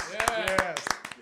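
Several people clap in uneven bursts of handclaps under steady voices, with the claps sharp but short and sharing the space with talk.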